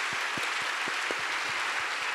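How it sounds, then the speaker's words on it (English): An audience at a panel discussion on teen suicide prevention claps for the panelists, a broad even wash of applause with a few heavier claps standing out, moderately loud throughout. "Can we have a round of applause for our panelists?"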